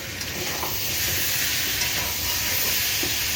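Eggplant frying in a scorched wok that is catching on the bottom, a dense, continuous, close sizzle and hiss that holds steady with faint occasional clinks and no voices.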